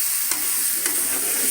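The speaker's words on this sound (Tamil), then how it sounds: "நல்லா கிளறி விட்டுருங்க." A spoon stirs pumpkin masala stir-fry in an oily pan over a constant sizzle of frying, with a couple of distinct scraping strokes in a short burst.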